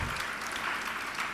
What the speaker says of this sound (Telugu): ఒకసారి చప్పట్లు కొట్టి దేవుని స్తుతిద్దాం.